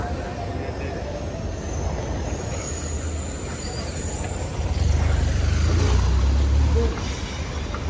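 A train rolls by during a walk through Milan from the Duomo toward the Last Supper museum, with a steady rumble of wheels and carriages that swells louder near the end before easing off.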